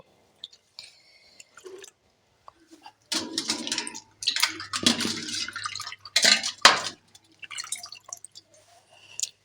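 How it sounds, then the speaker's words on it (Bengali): Leafy greens being rinsed in a basin of water in a home kitchen, heard as irregular splashing and dripping bursts that grow louder and busier midway, with quiet pauses before and after. "প্রথমে আমি শাকটাকে ধুয়ে নেব"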